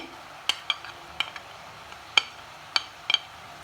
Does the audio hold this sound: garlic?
yes